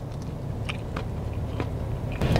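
Biting and chewing fried shrimp with soggy breading that keeps a little crunch, giving soft close-up crunches and mouth noises at irregular intervals over low background hum.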